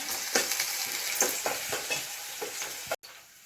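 Onions frying in hot tempering oil, a steady soft sizzle broken by about eight sharp stirring scrapes, ending in a brief cutoff near the close.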